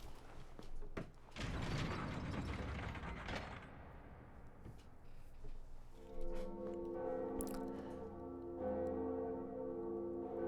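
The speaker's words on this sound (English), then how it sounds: "now we ring the second bell" A deep church bell rings out in the Dark Souls video game, preceded by clanking mechanism and ratcheting sounds, then a sustained resonant toll that hums and fades over several seconds.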